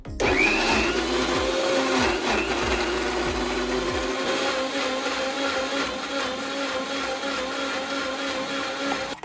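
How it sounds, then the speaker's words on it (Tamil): A mixer jar grinds the ingredients for paneer butter masala into a smooth paste with a loud, steady motor whine. It starts with a rising spin-up and settles into a continuous whirring roar throughout. "இப்போ அரைச்சிடலாம். Nice paste ஆக்கிடுவோம்."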